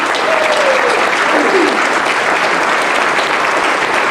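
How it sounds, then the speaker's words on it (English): Dinner guests at a 2004 awards banquet give a big round of applause, a loud, even wash of clapping from many hands that holds steady throughout. "Let's give them a big round of applause"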